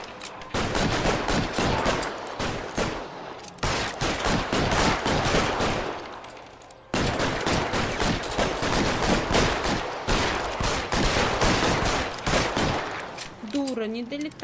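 Rapid bursts of gunfire from the L.A. Noire video game keep up a dense, loud, nearly continuous barrage, with a brief lull near the middle and a short tonal cue near the end.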